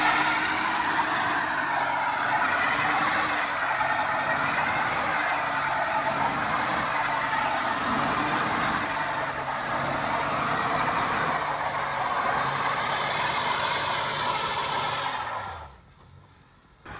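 A car doing a tire-spinning burnout roars loud and steady at close range for about fifteen seconds, a dense sustained engine and tire-scrub wash that drops off abruptly near the end.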